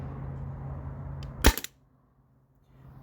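A single sharp crack from a modified Byrna TCR launcher firing through a chronograph, close and loud over a low background hum that cuts off right after the shot, leaving near silence.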